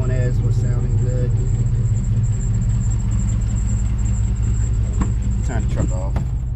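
Steady low rumble of an idling work truck with dual rear wheels and 172,628 miles, heard up close and continuous, with a few brief voice bursts over it.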